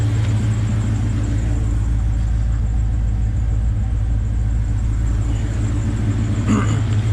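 A Nissan GU Patrol with a swapped LS1 V8 idling quietly, a steady low rumble held evenly throughout with no revving and no voices.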